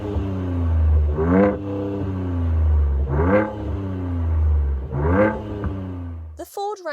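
A 2023 Ford Ranger Raptor's active exhaust heard from outside, revving three times in a row, each blip rising and falling sharply over a deep idle, then cutting off abruptly.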